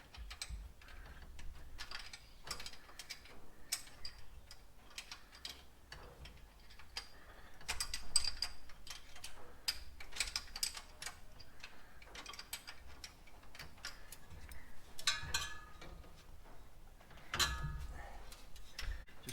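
Ratchet wrench working loose a bolt in the engine bay of a Holden HK, quick repeated clicking strokes in bursts, close and fairly quiet, with brief pauses between runs.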